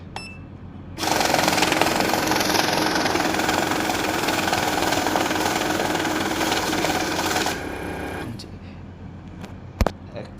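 A Safescan S260 money counting machine runs through a stack of banknotes, a loud steady whirring rattle that starts abruptly, holds for about six seconds, then stops, leaving quiet room noise and a single click near the end.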